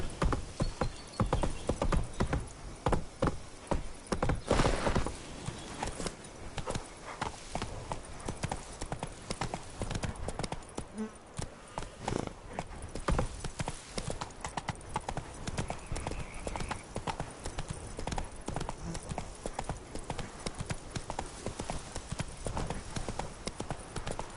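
Hoofbeats of Roach, the horse in The Witcher 3 video game, clip-clopping at a steady gallop throughout, loud and close, with a brief faint whinny amid the rhythmic pounding.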